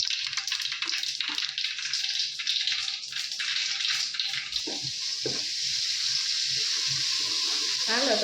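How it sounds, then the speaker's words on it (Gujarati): Dal is tempered with chillies, tomato, turmeric, salt and cumin in hot oil in a home kitchen, producing a continuous hissing sizzle that stays fairly even and close. "મસ્ત દાળ વઘારાઈ ગયા"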